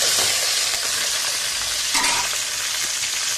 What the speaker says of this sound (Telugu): ఇప్పుడు కరివేపాకు చిట్టపట్టేస్తుంది కదా,